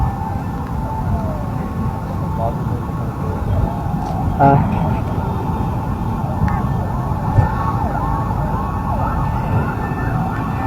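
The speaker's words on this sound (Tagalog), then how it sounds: "Ay, mga ambulansya." Ambulance and fire truck sirens wail continuously in the distance over heavy traffic rumble, their rising and falling tones weaving through the steady noise.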